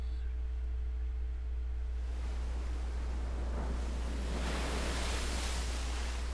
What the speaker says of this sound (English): No, this was the sound of raging waves.